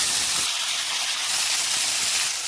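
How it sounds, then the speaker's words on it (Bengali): Potatoes frying in hot oil with salt and turmeric give off a steady, close sizzling hiss that holds evenly throughout, with no voices. "এখন লবণ হলুদ দিয়ে আলুগুলো ভেজে নিচ্ছি।"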